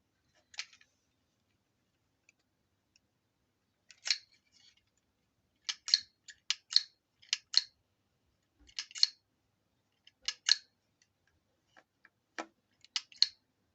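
A handheld Dymo label maker clicks and snaps in short sharp bursts as it embosses a label and cuts it, close and isolated clicks scattered irregularly with quiet gaps between.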